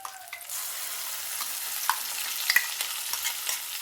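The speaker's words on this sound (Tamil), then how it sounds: "வெங்காயம் வதங்கட்டும்." Onions sizzle in oil in a pan for moringa leaf thokku, a close, continuous bright hiss broken by light stirring scrapes and small pops, with no talking.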